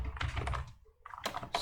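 Typing on a computer keyboard while building an Express routing setup for a MERN stack alarm app, a brief burst of close key clicks that pauses and then resumes.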